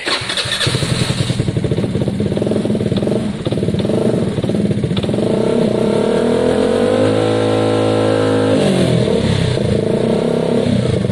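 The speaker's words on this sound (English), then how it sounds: "it should kind of rev throughout the rev range quite comfortably" A Gilera DNA 125cc motorcycle engine idles with a fast rattling putter, then revs up and down repeatedly, close and loud throughout.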